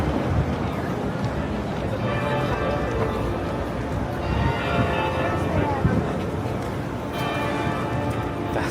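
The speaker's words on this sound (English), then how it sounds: "Those church bells sound quite ominous." Church bells ring at St. Thomas Church on a busy New York street on a hot summer Saturday, repeated tolls sounding moderately distant under steady city noise and wind.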